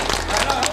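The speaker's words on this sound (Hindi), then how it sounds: "इन तमाम दानियों के नाम से जोरदार तालियां" A devotional gathering at an ashram's Guru Purnima festival breaks into loud applause for donors, a short, dense burst of crowd clapping heard briefly at full volume.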